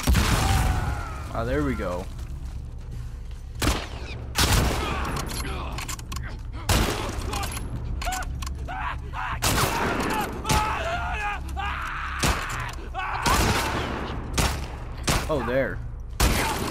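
Repeated gunfire bursts crack loudly throughout a Last of Us Part 2 fight in downtown Seattle, with several sharp shots spaced irregularly and mechanical clanks between them, while a player talks over the action.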